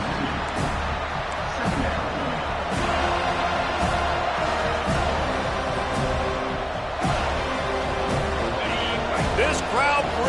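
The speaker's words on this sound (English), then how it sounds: "This crowd bringing the energy and noise early." Football stadium crowd roaring steadily throughout, a dense continuous wall of noise with scattered shouts and whoops, while a commentator talks over it.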